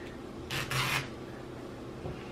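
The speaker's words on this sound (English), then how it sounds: "we're going to rip it just like that. It rips real easily" A strip of fabric for a ribbon flag tears by hand in two quick close ripping bursts, then a short faint rustle follows against a quiet room.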